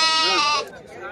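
Goats and sheep bleat at a busy livestock market in Loni, one loud, wavering bleat ringing out up close before fading into the general market din.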